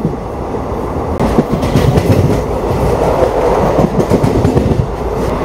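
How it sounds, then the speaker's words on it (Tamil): The Ananthapuri SF Express passenger train picking up speed after a slow stretch near Trivandrum airport, heard from inside the carriage as a loud rumble with clickety-clack wheel beats and rattling that build in density, with no talking. "இப்போ தான் கொஞ்சம் அப்படியே ஸ்பீட் எடுக்குது வண்டி."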